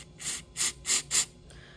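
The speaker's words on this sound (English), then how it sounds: "take some of this stuff called starting fluid and spray it inside the carburetor" Starting fluid is sprayed into the carburetor of a small engine that won't start, four short hissing bursts from an aerosol can in quick succession, close and clear with no talking.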